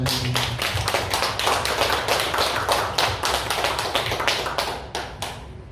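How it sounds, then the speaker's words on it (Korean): A church congregation claps together in a steady rhythmic beat of many even strikes, loud and close, running on without talk. "우리 하나님께 박수 갑시다."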